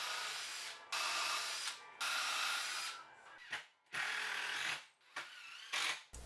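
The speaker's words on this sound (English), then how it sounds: "I pre-drill them and screw them directly into the rafters." A power drill pre-drills holes in wooden 1x2 spacers, running in several separate whirring bursts with short pauses between them, close and fairly loud.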